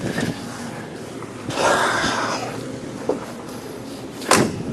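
A 1970 Chevrolet Nova's door being shut, heard as a solid close thump amid outdoor background noise, followed by a couple of smaller knocks and clicks.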